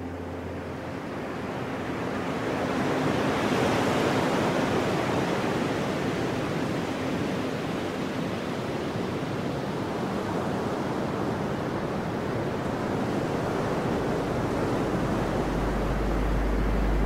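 Broad, steady wash of ocean surf rolling on for the whole stretch, a continuous hiss and rumble with a faint low hum beneath, no voices.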